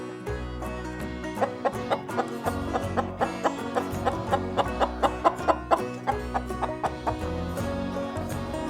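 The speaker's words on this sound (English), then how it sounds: "I make the sound cluck cluck." A chicken clucks repeatedly in a quick, rhythmic series of short calls, close and clear over a steady background.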